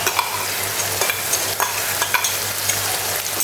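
A paste of tomato, coriander, chili and ginger sautés for egg kheema, frying loudly and steadily as a spatula stirs it in rhythmic scrapes.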